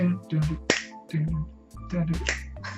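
Several crisp finger snaps ring out over a steady musical backing with a low bass line, spaced irregularly across a few seconds and sitting fairly close and prominent.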